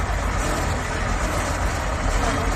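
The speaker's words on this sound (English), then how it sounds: "going well, that little tractor" A small diesel tractor engine runs steadily at a steam rally in Whitby, a continuous low rumble with broad mechanical noise, close and fairly loud with no pauses.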